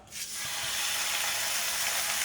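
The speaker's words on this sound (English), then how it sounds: "And this side of the frying pan, we're gonna pan sear some steak" A ribeye steak searing in oil in a frying pan gives a loud, steady, close sizzle that swells within the first moment and then holds an even, hissing roar throughout.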